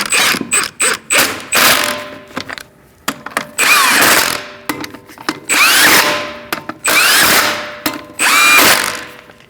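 An impact or power tool spins lug nuts tight on a 2006-2011 Chevrolet HHR wheel, buzzing and ratcheting in a series of loud, close bursts separated by short pauses.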